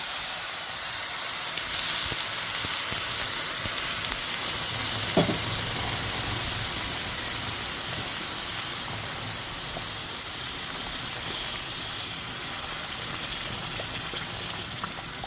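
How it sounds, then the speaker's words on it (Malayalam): Boiled water poured into a hot pan of upma mixture, giving a steady, loud sizzling hiss with steam that holds evenly for about fifteen seconds, with faint stirring underneath and no talk. "തിളപ്പിച്ച് വെച്ച വെള്ളമാണ് ഒഴിച്ചു കൊടുക്കുന്നത്"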